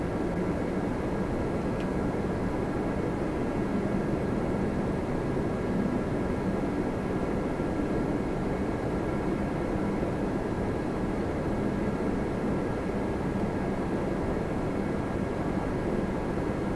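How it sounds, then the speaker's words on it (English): A jet airliner takes off at Toronto Pearson airport, its engines producing a steady, loud, broadband roar that holds unbroken throughout with no voices. "Takeoff"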